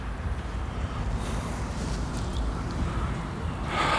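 Strong wind buffets the microphone outdoors in a constant low rumbling roar, steady and loud for the whole stretch with a slight gust toward the end.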